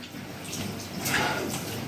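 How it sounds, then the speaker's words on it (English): Cold shower water splashes onto a face, a soft wet patter and spatter under the running shower spray, faint and close, rising a little in the second half. "Splash the face a little bit."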